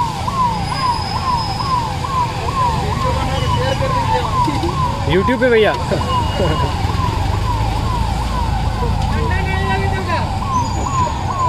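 A fire engine siren wails, cycling steadily up and down throughout, loud and close, arriving at a large fire near Patna Junction, with someone talking over it and traffic noise around.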